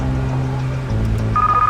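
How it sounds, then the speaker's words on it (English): A game-show telephone starts ringing near the end, a short bright electronic tone over a low steady hum. "That ring, that phone call"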